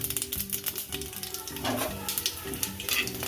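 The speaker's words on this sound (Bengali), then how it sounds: "এগুলো সব দিয়ে দেওয়া হচ্ছে এবার মালাইকারি প্রস্তুতি চলছে সর্ষের তেলে দিয়ে দেওয়া হচ্ছে" Whole spices, including cumin and cinnamon, sizzle in hot mustard oil for a prawn malai curry, a close crackling fry with rapid, ticking pops and a brief surge midway.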